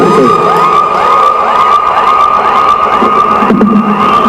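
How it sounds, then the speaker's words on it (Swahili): A crowd cheers and shouts at a governor's inauguration ceremony in Kisii County, Kenya. The cheering is loud and sustained, with whistles or horn-like wavering tones above it, and there is no talking. "Shangwe na nderemo tafadhali."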